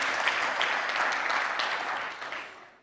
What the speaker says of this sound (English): Please, a big applause to all the team